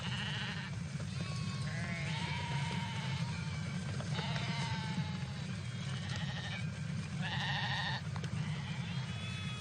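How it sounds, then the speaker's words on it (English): Sheep and a Judas goat bleat repeatedly over a steady low rumble, several wavering calls overlapping at close to moderate distance. "A Judas goat"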